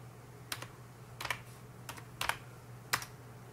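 A login password is typed on a computer keyboard while setting up a Raspberry Pi running FPP: five short bursts of close, crisp key clicks over a faint steady hum.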